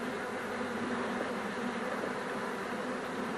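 Bees hum in a dense, steady buzz inside an open honey-production hive as frames are shifted one by one, a faint unbroken drone with no voices.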